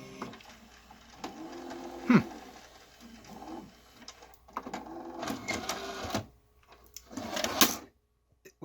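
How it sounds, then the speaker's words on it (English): A rusted 1986 Panasonic PV-1060 VCR plays a tape, its mechanism giving off whirring, clicking and clunking bursts that come and go close by, with brief quiet gaps between them. "if I hit play, I'm assuming it's going to play to the end and repeat"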